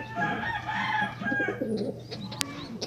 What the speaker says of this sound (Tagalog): kalapati na ito